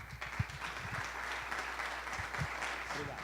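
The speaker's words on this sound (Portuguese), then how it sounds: "Uma salva de palmas." Applause for a guest professor before an economics lecture, a steady patter of clapping from the audience that continues throughout, with a few low voices or thumps now and then.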